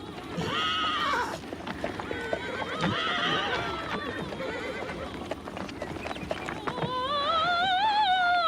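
A horse whinnies loudly and hooves clip-clop in a Western film scene, with neighs rising and falling across the span and people talking in the background.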